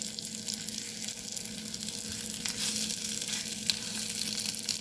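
Sausage patties frying in a pan give off a steady, fairly soft sizzle with crackling pops. The sound is continuous and close for several seconds, and no one talks.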